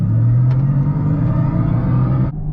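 A Mercedes-AMG EQS electric car with 761 hp accelerates on the Autobahn, giving a loud, steady low rumble and synthetic drive hum that holds evenly before cutting off just before the end.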